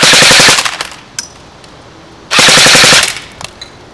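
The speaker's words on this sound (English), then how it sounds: "this is shooting right at 700 rounds per minute" Lancer Tactical M4 airsoft gun firing full auto at around 700 rounds per minute, two loud rapid bursts of about half a second each separated by a quiet gap.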